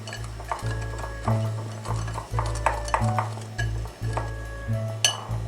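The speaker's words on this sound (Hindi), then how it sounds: "सबको अच्छे से मिक्स कर लेंगे।" Potato wedge seasoning of garlic powder and oregano being stirred in a bowl, giving steady scraping and clinking of a spoon against the dish in repeated strokes, close and fairly loud with no talk.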